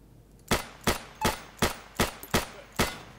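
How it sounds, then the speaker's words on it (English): Seven sharp gunshots ring out at an even pace on an Insurgency training range, each a loud, crisp crack with a short decay, fired alone with no talk over them. "I am shooting!"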